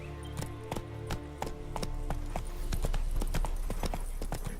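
Hoofbeats of Roach, the horse in The Witcher 3, clip-clopping in a fast galloping rhythm over a steady game soundtrack, close and clear, with no talking.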